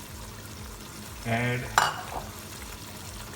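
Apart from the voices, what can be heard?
sauce and water poured into a cooking pot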